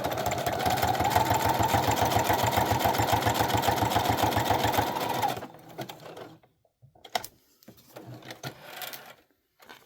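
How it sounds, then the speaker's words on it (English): Sewing machine stitching a paper corner pocket onto a junk journal page, a loud, steady, fast mechanical whir for about five seconds, then stopping and leaving quieter handling noises. "So we're going to sew the bottom of this little corner pocket to the page."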